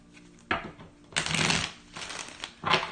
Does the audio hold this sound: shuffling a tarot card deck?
yes